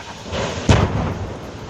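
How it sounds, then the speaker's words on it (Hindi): A missile strikes close to an oil supply train in Crimea, setting off a single heavy explosion: a sudden deep boom that rolls out into a rumbling, thunder-like decay over a steady background roar. "हमला होते ही वहां धमाका हुआ और भयंकर आग लग गई।"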